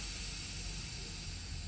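Air brakes on a tractor-trailer truck released during an inspection, giving a faint, steady hiss with no talking.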